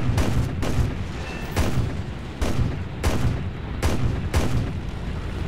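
MiG-9 cannons, two 23 mm and one 37 mm, firing in a combat flight video game: heavy booming bursts repeating roughly every 0.7 seconds, loud and close, with no talk.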